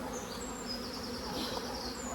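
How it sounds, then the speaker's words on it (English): Honeybees buzz in a nucleus hive box, a dense, continuous hum with individual bees whining close by, heard alone at fairly low level. "Look at these bees though."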